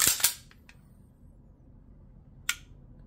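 Dry trigger pull on a Smith & Wesson M&P 5.7 pistol: a sharp, crisp break click near the start with a smaller follow-up tick, then after a quiet pause a single short reset click, close and distinct.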